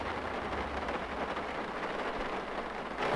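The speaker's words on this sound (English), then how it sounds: "The rain is falling." Steady, dense rain falls across a Farming Simulator 19 farmyard near a trailer and tractor, a continuous broadband hiss with a low rumble underneath, even and unbroken throughout.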